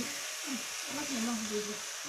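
Cumin seeds sizzle and crackle in hot oil in a pan for jeera rice, a steady close frying hiss with faint tonal squeaks, no talk over it.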